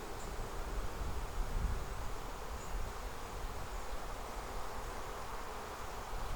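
Honeybees on a freshly capped brood frame drone in a constant, dense buzz throughout a hive inspection, steady and fairly soft with no talk over it.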